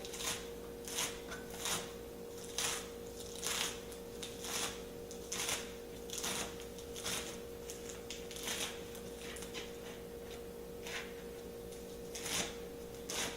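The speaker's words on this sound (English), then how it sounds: "Then I'm going to begin chopping my kale." A knife chops kale on a cutting board, with quiet, crisp strikes landing in a steady, irregular rhythm over a constant background hum.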